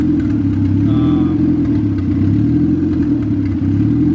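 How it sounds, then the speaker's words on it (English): Turbocharged B16 engine in a Honda Civic EG hatchback idling steadily with a low, constant rumble, loud and close, with a faint brief whistle over it. "we got the car kind of idling as good as I can get it for now"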